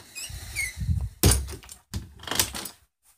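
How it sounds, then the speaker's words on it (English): A door slams shut in a night-guard horror video game, with a sharp loud thud, a few scraping and clattering knocks after it, and faint chirpy game sounds before, ending in silence. "Gonna have to close the door."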